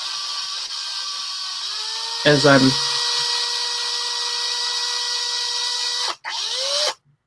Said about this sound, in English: I'm going to drill a little hole here in the back